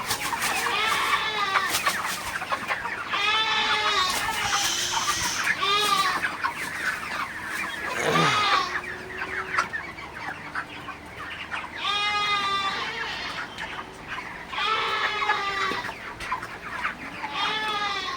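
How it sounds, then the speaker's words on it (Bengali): Broiler chickens ready for sale at about 37 days old cluck and squawk on a poultry farm, a dense, near, continuous flock chorus with repeated clucking bursts and a low background hum, and no clear human speech. "মুরগিগুলো আপনারা দেখতে পাচ্ছেন খুবই সুস্থ আছে ভালো আছে"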